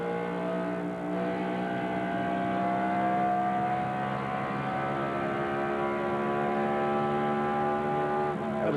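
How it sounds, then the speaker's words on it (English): NASCAR Winston Cup race cars roar at Homestead-Miami during the 2000 Pennzoil 400, a continuous loud engine drone with steady harmonic pitch and slight shifts, with no talk over it. "That was Jeff Burns' car."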